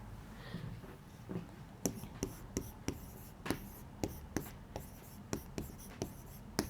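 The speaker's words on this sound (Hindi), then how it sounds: "रुको वो मैं थोड़ा साफ लिख देती हूँ" Chalk or a marker taps and scratches across a board during a chemistry lesson, in a quick irregular run of sharp strokes heard close by, with faint whispering in the background.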